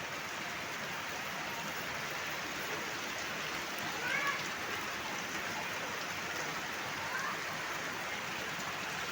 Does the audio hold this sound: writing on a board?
no